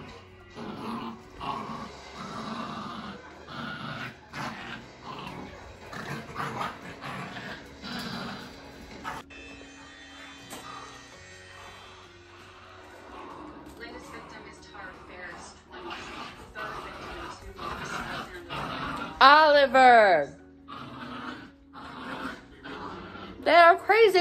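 Dogs barking, yipping and growling inside a house, repeated bursts through most of the stretch and loudest near the end, mixed with people talking and a television in the background.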